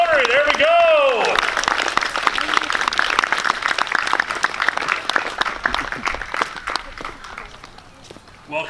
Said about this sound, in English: let's give a huge round of applause for representatives from Sebastopol Rotary